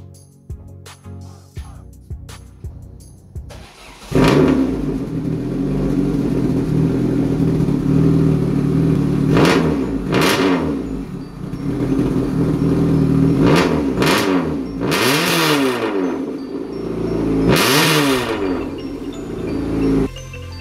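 A car with its muffler cut off, running a straight-piped exhaust, cranks briefly, then catches and idles loudly with a raw rumble, punctuated by several sharp revs that rise and fall, heard close and alone.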